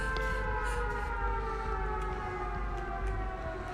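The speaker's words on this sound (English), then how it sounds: "this map starts with a siren" A steady, loud wailing siren fills the Silent Hill map in Dead by Daylight, sustained without pause over a low rumbling backdrop, with no talk.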